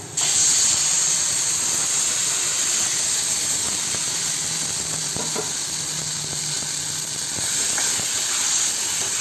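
Gongura (sorrel leaf) dal poured into a hot tempering of curry leaves, mustard seeds and peanuts, giving a steady, loud hiss and sizzle that holds throughout with faint stirring clicks and no talk.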